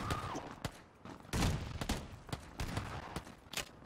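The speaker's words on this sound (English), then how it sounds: "The shotgun's very loud in my ears." Shotgun blasts in PUBG (PlayerUnknown's Battlegrounds), a series of sharp, loud gunshots fired at irregular intervals over a noisy game background, several close together.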